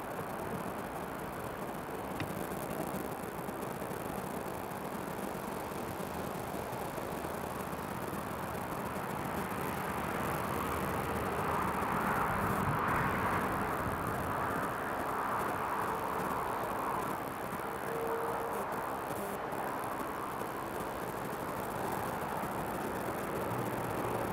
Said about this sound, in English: here's the EasyJet. Just about to land.